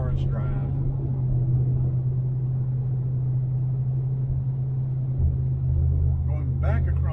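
A car drives along a National Forest road across Taylor Ridge, a constant low engine and tire rumble throughout, with a voice talking faintly over it.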